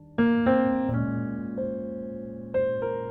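Jazz piano chord voicings struck one after another, rich layered voicings ringing and decaying, played slowly and alone at a soft, clear level.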